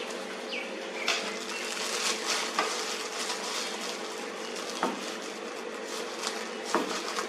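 Chopped parsley being stirred through a cooking venison mixture in a pan: a soft continuous sizzle broken by occasional sharp scrapes and knocks of the utensil.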